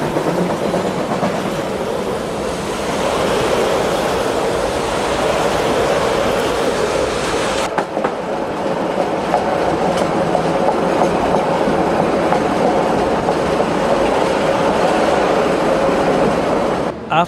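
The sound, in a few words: smoke-belching steam locomotive train blasting out of a tunnel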